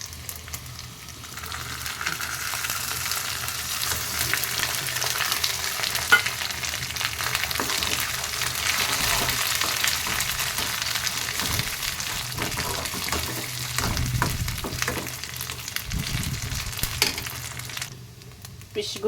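Fish eggs fry in a pan with a steady, fairly loud sizzling hiss, occasional stirring scrapes and a few brief knocks near the end.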